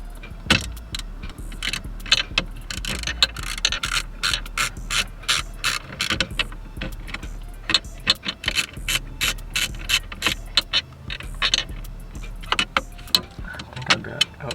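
A ratchet clicks in quick bursts as screws are tightened on a Chevy box truck steering column, with short repeated rounds of close, crisp pawl clicking and occasional metallic clinks.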